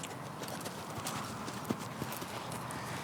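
Horse hooves cantering in a schooling session with a big, green horse wearing a stronger bit, giving a steady muffled rhythmic clip-clop over faint ambient noise, with one sharper hoof strike standing out.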